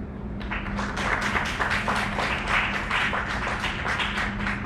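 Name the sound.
one person clapping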